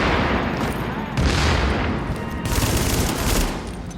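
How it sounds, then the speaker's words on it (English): A grenade goes off in the shooter video game The Division amid a rolling fusillade of gunfire, a loud, broad blast surging up in two heavy waves over continuous shooting. "Okay, that's a grenade."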